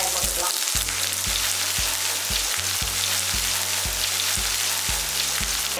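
Cumin, curry leaves and small shallots fry in hot oil with mutton, producing a dense, loud, unbroken sizzle close by, while a low rhythmic mechanical thumping repeats steadily underneath.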